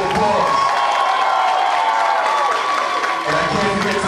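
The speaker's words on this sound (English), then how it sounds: "Give your babies a big round of applause." An audience at a school celebration applauds and cheers for children, steady crowd clapping and voices throughout, fairly loud and filling the hall.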